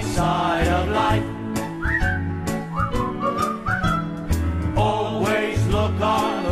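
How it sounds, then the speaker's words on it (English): A person whistles a bright, bouncy show tune, the melodic whistle rising and gliding above a loud, full musical backing of a Spamalot song for a choreography audition. "Just purse your lips and whistle, that's the thing."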